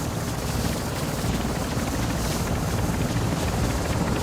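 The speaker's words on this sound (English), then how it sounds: "We just gotta wait for this helicopter to come." A helicopter arrives at an extraction point in Warzone 2 DMZ with a loud, steady rotor roar that fills the scene, joined by a rushing, windy wash and no talking.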